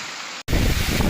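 Strong wind blows over a lake as a loud, broadband roar buffeting the microphone, briefly cutting out for an instant before surging back heavier and rougher.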